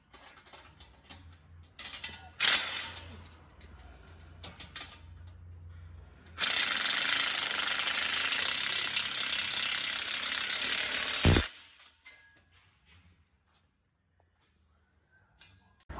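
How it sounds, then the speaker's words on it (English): Impact wrench tightening nuts on a metal pizza oven stand for a 60 or 70 size oven: a sustained loud mechanical rattling burst lasting several seconds, preceded by scattered clicks and short whirrs, then near silence. "Now I'll be taking my rattle gun and my 13mm spanner and tightening up all the nuts."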